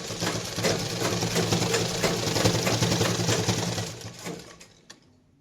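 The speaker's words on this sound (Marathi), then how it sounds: "आता पुन्हा एकदा आपल्याला हे कड्याने शिलाई मारायची" A sewing machine stitches along a cloth edge for a handbag made from leftover dress fabric, a loud, fast, even mechanical rattle that runs steadily and then slows and stops near the end.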